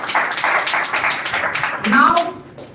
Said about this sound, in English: Please again give a huge round of applause for him.